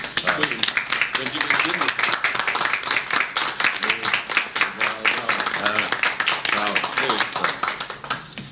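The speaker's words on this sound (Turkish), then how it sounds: "Evet şimdi alkışlarla" Sustained audience applause at a live-broadcast official ceremony held by Manisa Metropolitan Municipality, dense steady clapping throughout with voices mixed in under it.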